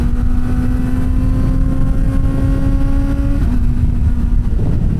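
A Kawasaki ZX-4RR motorcycle engine runs loud and close, holding a steady high-pitched drone before the pitch briefly dips and then settles back, without voices.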